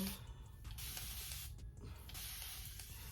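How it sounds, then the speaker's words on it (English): Bursts of fine hissing water spray from a spray bottle dampening wig hair, several quick pumps in a row, close and fairly loud with brief pauses between. "Take my spray bottle."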